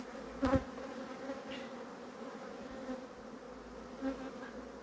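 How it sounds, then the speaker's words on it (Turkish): Honeybees hum and buzz close by in a continuous drone, with a louder burst as one passes near, then a softer swarm hum. "Şöyle silkeledikten sonra e, arı uçarak içeri girecek."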